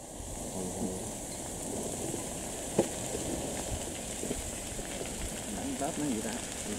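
A large fire burning through a melaleuca (cajuput) forest in Vietnam gives off a steady, dense roar that fills the whole stretch, with one brief sharp crack near the middle and faint voices in the background.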